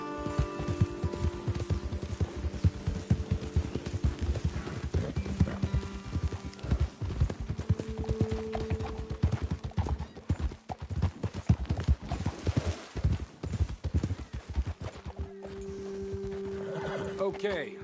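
Horse hooves clip-clopping at a steady walk in Red Dead Redemption 2, with occasional whinnies and rain-like patter, running under spoken dialogue throughout.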